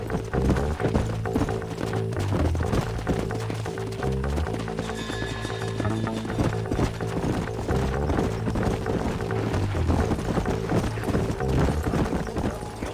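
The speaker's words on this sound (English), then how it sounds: "Let's hold up a minute and find a spot for our horses." Horses clip-clopping at a trot in the open-world western game Red Dead Redemption, a steady, close rhythm of hoofbeats running the whole time under a continuous music score, with an occasional whinny.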